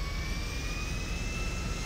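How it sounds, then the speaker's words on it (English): A HondaJet HA-420 jet engine starting up in GTA 5: a steady, loud turbine roar with a rising high whine, continuous and close. "And we'll go fire the engine up."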